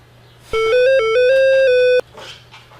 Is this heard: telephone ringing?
yes